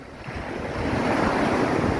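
Sea waves wash steadily onto a beach beside a pier at Nam Rin beach in Ban Chang, Rayong, a loud, continuous surf roar with wind buffeting the microphone and no voices.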